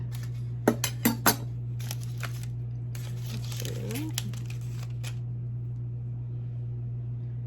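A knife slices through roasted beets, giving a few sharp, close clicks and soft cutting crunches over a constant low hum. The sounds come in short bursts with pauses between them, and no one speaks.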